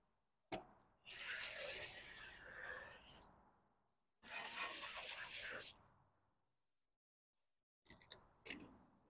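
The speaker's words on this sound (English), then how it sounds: "Go ahead and rinse this off." Water spraying over a BMW Z3 wheel to rinse off coating, in two sustained bursts of a few seconds each with pauses between, followed by brief clattering spurts, close and fairly loud.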